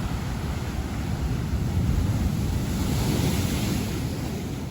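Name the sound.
sea waves on Bonaire coast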